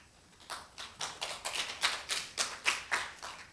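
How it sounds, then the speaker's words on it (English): Faint, steady clapping at a fall 2021 new student convocation, a dozen or so evenly spaced claps in a quick rhythm that sounds like a small group or sparse audience rather than a full roaring crowd. "Please welcome Dr. Davis with a round of applause."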